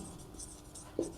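A marker or chalk scratches across a board during a maths lesson, soft, close strokes with a brief louder tap near the end, and no talking.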